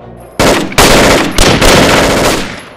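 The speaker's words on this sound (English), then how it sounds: "they're shooting real bullets" Loud bursts of automatic gunfire from real bullets in a comedic army-men skit, three sustained volleys breaking in sharply one after another and filling the whole stretch.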